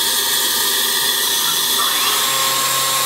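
A Tsugami S20D CNC Swiss lathe runs live tools, giving a continuous high-pitched whine with steady tonal hum, a pitch shift partway through, loud and close with no speech.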